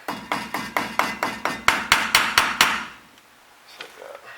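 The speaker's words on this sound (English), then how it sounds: "Just gonna hammer her tight." Steel hammer strikes driving a cotter pin tight on a Ford Ranger wheel hub, about ten sharp, evenly spaced metallic blows close up, then a quieter pause with faint handling noise.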